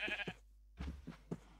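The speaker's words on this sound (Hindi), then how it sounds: "भेड़ है भेड़।" Sheep in the Minecraft video game bleat several times in short, quiet, wavering bursts separated by brief silences.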